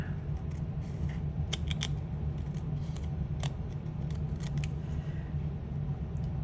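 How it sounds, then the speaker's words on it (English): Scissors trimming a playing card snip repeatedly in quick, irregular clusters of sharp clicks over a constant low hum, close by, with no talking. "Okay, scissors. All right, and then just go ahead and trim it."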